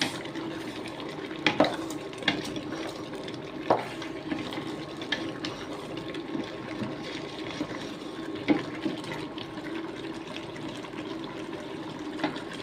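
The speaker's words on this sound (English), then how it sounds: "Let me stir a bit." A spoon stirs a pot of beef and vegetable stew, giving soft, wet sloshing with occasional clinks against the pot at irregular intervals over a steady kitchen background.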